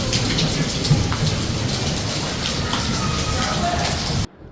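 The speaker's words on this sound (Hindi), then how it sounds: "बहुत ही प्यारी बारिश है।" Steady, dense rain pours down close by, a constant hiss and patter filling the scene before cutting off abruptly near the end.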